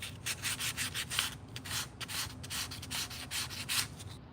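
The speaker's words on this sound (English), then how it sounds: "So I'm using this 320 grit sandpaper." A wooden owl carving is hand-sanded with 320 grit sandpaper, giving close, rhythmic rubbing strokes in quick repeated bursts with no talking.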